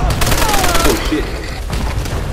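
Gunfire crackles in a cooperative match of the video game Call of Duty: World at War. Loud, rapid bursts of shots and explosions fill the clip, and a player's voice is heard over the battle.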